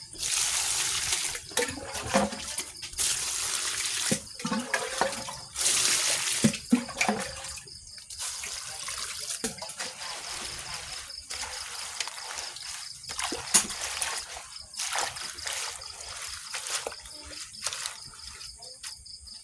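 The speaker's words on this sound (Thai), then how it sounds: "เดี๋ยวล้างผักก่อน" Running water pours and trickles as vegetables are rinsed, in intermittent louder bursts of splashing and flow separated by quieter stretches, with crickets chirping steadily in the background.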